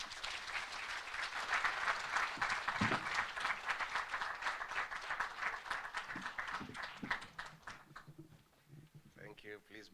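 Audience at a Kenyan youth programme launch applauding to welcome the Deputy President, a dense sustained ovation that fades out toward the end as a voice begins speaking.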